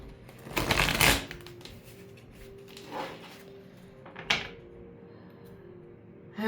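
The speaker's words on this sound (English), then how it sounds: "Let me shuffle these tarot cards real quick." Tarot cards shuffled by hand, a loud riffling burst followed by softer, brief card flicks and a sharp tap, close and with no voice over them.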